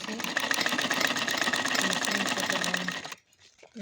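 Sewing machine stitching a corner seam of fabric, running in a fast, steady rattle for about three seconds before stopping abruptly, followed by quiet handling noises.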